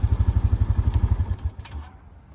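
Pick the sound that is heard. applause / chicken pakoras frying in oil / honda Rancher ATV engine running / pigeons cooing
honda Rancher ATV engine running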